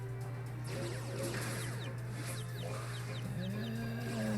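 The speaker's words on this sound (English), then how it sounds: "Nope, still a chicken." A chicken in the Monster Strike mobile game gives a few quick, chirpy clucks over a steady humming game background, moderately loud and with no talking.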